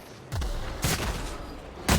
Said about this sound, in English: I guess we're just going to have to shotgun this stuff.